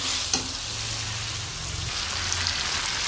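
Potatoes fry in a pan as a little water is added, giving a loud, close, continuous sizzle and hiss with a brief clink at the start, no voices.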